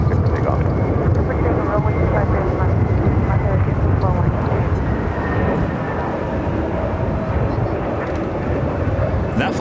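Jet engines of an airliner on its takeoff roll down runway 25 left at LAX make a loud, steady, broadband roar that fills the whole stretch without easing, with voices faintly mixed in.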